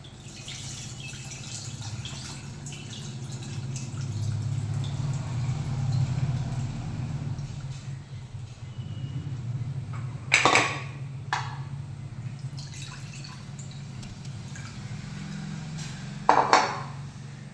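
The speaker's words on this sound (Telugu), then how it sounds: "ఇప్పుడు ఇందులో చింతపండు వాటర్ వేద్దాం ఫ్రెండ్స్" Tamarind water pours into lentil rasam for an Andhra-style pappu charu, a low watery pouring rumble with a few sharp clinks of a vessel near the end.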